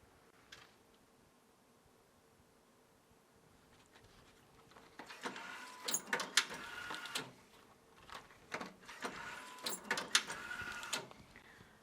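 An ATS US-2000 ultrasonic banding machine cycles through a bundling run, starting with a quiet hum and then giving a series of sharp mechanical clacks and whirring bursts at irregular intervals. It sounds fairly close, and no one talks.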